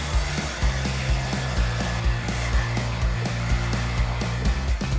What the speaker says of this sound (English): So after we work the seafoam in, it's time to rough dry the hair.